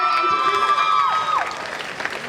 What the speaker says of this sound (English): let's raise a huge round of applause to our seniors